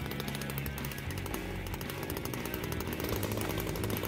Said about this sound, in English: On the stock 590, Benford will be slinging chips while Hot Rod gets the pleasure of proving the quality of his muffler mod